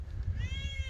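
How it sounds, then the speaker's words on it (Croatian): A young male cat lets out a single rising meow while playing, heard close up over a low background rumble. "Dok se ova igra, bre, jaki se igra ovaj jaki mladi mačak."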